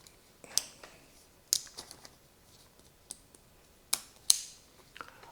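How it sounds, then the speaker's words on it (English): The scissors on a small budget multi-tool from an urban survival kit snip and click, giving scattered sharp, close metallic snaps with short quiet gaps between them. "a very, very capable pair of scissors"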